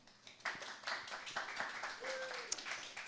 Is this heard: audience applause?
yes